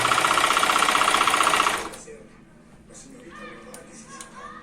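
A Brother VX950 sewing machine stitches at a fast, even mechanical rhythm for almost two seconds, then stops, leaving quieter room sound with faint voices in the background.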